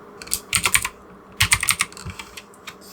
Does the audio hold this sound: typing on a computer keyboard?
yes